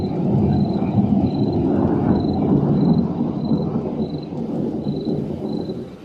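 Steady rain and gusting wind on a high cliff above a vast lake, a loud, unbroken wash of rumbling noise with no break, and a faint repeating high tone running through it.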